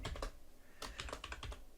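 Code being typed on a computer keyboard for a beginner Python program, heard as a close run of quick clicky keystrokes in two bursts with a short pause between, and no voices.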